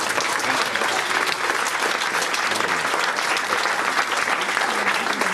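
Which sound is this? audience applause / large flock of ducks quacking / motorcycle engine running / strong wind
audience applause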